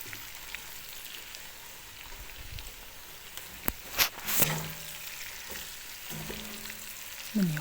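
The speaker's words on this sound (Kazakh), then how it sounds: "Міне қарасаңыздар, қуырылып жатыр, қызарып бастап жатыр." Tripe fries in a pan with a soft, steady sizzle and crackle, broken by a few sharp spatters and scraping clatters, close up with no voices.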